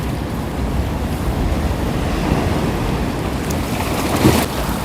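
Sea waves wash along the East Sea shore at a winter fishing spot, a steady broadband surf roar mixed with wind across the microphone, fairly loud and continuous with no talk.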